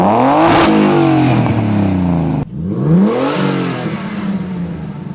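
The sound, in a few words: car engine revving with fuel cut turned off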